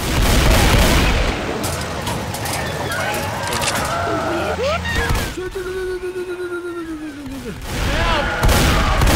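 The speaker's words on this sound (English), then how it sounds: "You're shooting me!" Gunfire in the zombie shooter Left 4 Dead 2, a busy mix of shots and booms with a whistling tone, all under loud excited talk from players.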